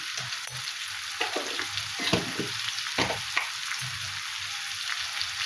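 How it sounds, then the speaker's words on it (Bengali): Chili, cumin and coriander sizzling steadily in a hot pan while being sautéed, with broadband frying hiss throughout and occasional stirring scrapes and clicks of a utensil close by. "এভাবে এটা কষে নেব"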